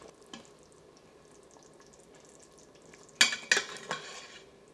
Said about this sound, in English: we're gonna spoon it over the short ribs